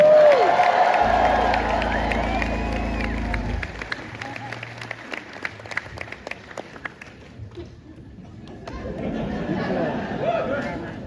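Concert crowd at a show in Chicago cheering, clapping and chattering after a band member is introduced, loud and close at first, then thinning to scattered claps before swelling again.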